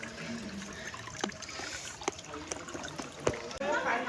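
A waterfall at a Maa Durga shrine in Jajpur, with water trickling and splashing steadily throughout, mixed with people talking nearby.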